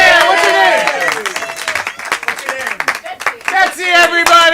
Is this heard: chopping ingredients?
no